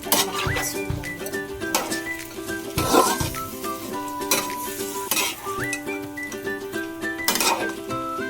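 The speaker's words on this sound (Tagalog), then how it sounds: "Haluin natin siya para makakas yung tuyo." Pork pata adobo with chili garlic stirred in a pan: a metal spoon clinks and scrapes against the pot in repeated strokes over a soft sizzle, close and clear, without voices.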